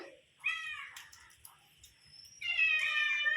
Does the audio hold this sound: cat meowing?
yes